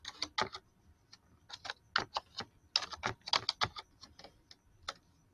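Typing on a computer keyboard to enter text in Photoshop, with close, crisp keystrokes in irregular bursts and no speech.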